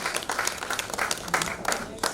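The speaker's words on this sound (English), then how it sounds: "Please, another round of applause for her." A room full of people applauding, brisk clapping that swells and dips in waves over a couple of seconds.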